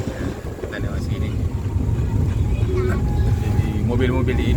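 Vehicles rumble past at night on the mountain road at Camba, a continuous low engine and road roar with wind buffeting the microphone, while people talk nearby.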